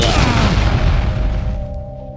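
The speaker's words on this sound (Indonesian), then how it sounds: "menciptakan ledakan dahsyat" A mace strike in an animated legend sets off a massive explosion, heard as a loud, deep, roaring boom that fills the clip, then thins out toward the end.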